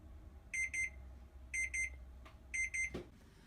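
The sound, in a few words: kitchen timer beeping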